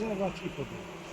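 Honeybees buzz in a hive in a steady, droning hum close by, with a brief soft voice near the start.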